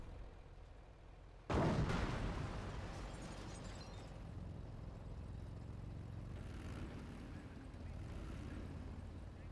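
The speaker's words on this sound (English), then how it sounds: "Hotchkiss barrage gets right there, wipes out the crew" Hotchkiss artillery barrage in the strategy game Company of Heroes, a sudden heavy blast followed by a long rumbling roll of fire and explosions, faint overall and partly under a speaking voice.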